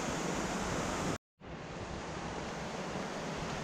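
A swollen river after heavy overnight rain in Snowdonia rushes as a steady, loud broadband roar that cuts out for a moment and then returns just as strong.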